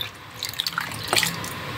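Water poured from a tap into homemade lemon peel liquid soap, a short splashing and trickling run with a few drips, close and fairly quiet.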